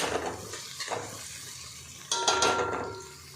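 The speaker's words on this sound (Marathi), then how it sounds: "ती पण व्यवस्थित हलवून घेऊया" A spoon stirs masala veg pulao with green chillies in a pan, with scraping strokes over a soft sizzle and a sharper metallic clatter near the end.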